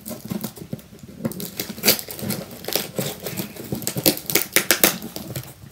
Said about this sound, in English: Ripping tape, so satisfying.